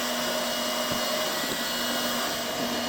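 A hot air welding machine heats and presses layers of a conveyor belt together with a roller, giving a steady, loud blowing hiss with a faint whine and occasional soft knocks, with no speech.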